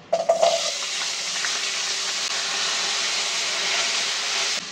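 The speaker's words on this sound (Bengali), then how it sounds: "তেলের মধ্যে আমি আলুগুলো দিয়ে ভেজে নিব।" Potatoes drop into hot oil with a sharp burst of spitting, then settle into a loud, even, continuous hiss of deep frying close by.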